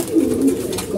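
Pigeons feeding on scattered grain give a short, close, low coo, a brief rolling call lasting about a second with no speech over it.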